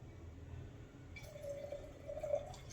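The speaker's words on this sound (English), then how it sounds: "when you're pouring your wine, make sure to pour it like this." Wine is poured into a glass in a quiet room, a faint liquid trickle whose pitch rises gently as the glass fills, lasting a little over a second.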